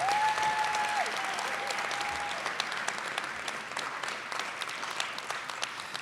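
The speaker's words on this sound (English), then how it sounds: "can we give the loudest round of applause to the parents, siblings, family, and friends and loved ones who have supported you" Loud, sustained audience applause fills a room at a Middle Eastern and North African student graduation celebration, a dense wash of clapping that fades only slightly over several seconds.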